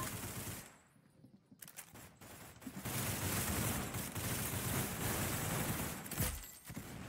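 Rapid gunfire in the Roblox game Arsenal, a dense continuous rattle of shots that begins after a brief quieter lull and keeps going loud and steady to the end.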